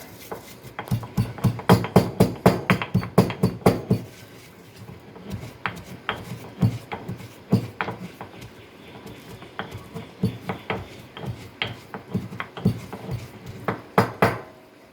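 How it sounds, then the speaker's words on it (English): Dry-roasted cumin seeds being pounded into a coarse powder with a mortar and pestle: a close, steady run of hard knocks and grinding rubs. The knocking comes in quick bursts, then slows into sparser, irregular strikes. "Make a coarse powder of that. Pound it."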